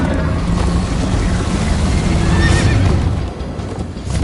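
A horse in the video game Minecraft Story Mode whinnies loudly and close while its hooves pound in a steady gallop, over a dense rushing chase-scene background.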